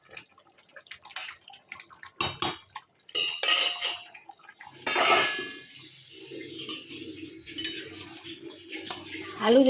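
A pot of chicken curry with potatoes is stirred with a metal spoon, giving irregular clanks and scrapes against the pot, followed by a softer wet bubbling sizzle.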